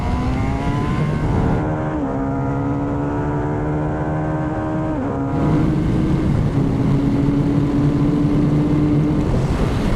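A Kawasaki Z900 RS Cafe motorcycle launches off a drag strip start line, its engine loud and close, pitch climbing through gears with shift breaks and continuing to roar under wind noise.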